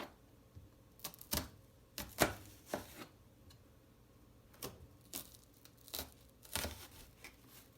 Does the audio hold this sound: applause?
no